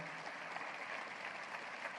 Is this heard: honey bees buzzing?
no